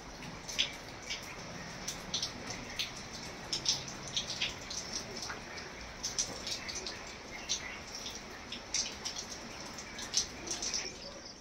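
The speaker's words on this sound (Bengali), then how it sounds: "বৃষ্টি বৃষ্টিও হচ্ছে," Rain falling steadily across Jalpaiguri district under a dark sky with wind, a soft continuous hiss with scattered drips and patters, faint and distant, with no talk.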